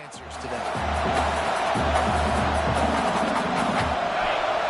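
Stadium crowd noise from a college football video game, a steady loud roar of cheering fans on fourth down, sustained throughout with low rumbling beneath.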